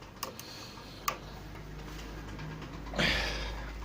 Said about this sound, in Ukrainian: На приборах так само клацає.